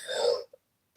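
A single short, raspy cough, close and fairly loud, followed by near silence and then a sudden sharp sound at the very end.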